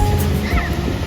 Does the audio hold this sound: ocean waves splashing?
yes